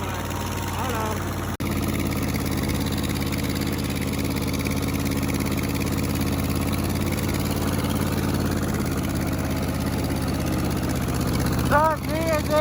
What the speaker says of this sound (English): So it's me and Dave, thought I'd get the tractor fired up.